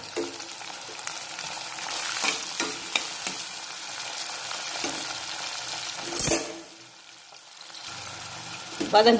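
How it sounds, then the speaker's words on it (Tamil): Vegetables with a large tomato, green chillies, brinjal and broad beans sauté in a pan for an eight-vegetable kootu, giving a steady close sizzle with a few louder stirring scrapes and a brief lull near the end. "வதங்கும் போது தக்காளி இதுக்கு ஒரு பெரிய சைஸ் தக்காளி எடுத்திருக்கேன்"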